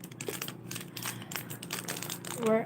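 Crinkling and crumpling of plastic packaging around fishing hooks, a steady rustle close by with a brief tearing crackle near the end.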